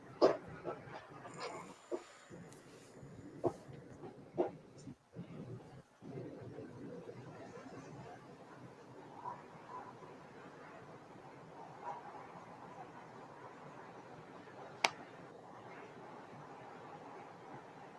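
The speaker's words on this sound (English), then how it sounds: "That's my dog." A dog whimpers and gives a few short soft barks and yips, scattered through a faint, quiet room with light shuffling noises.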